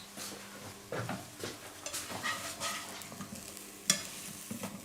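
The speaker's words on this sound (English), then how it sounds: "it's cooking. Sizzling." Mushrooms fry in a pan with a soft, quiet sizzle, broken by scraping stirs and turns of the spatula and a brief clink near the end.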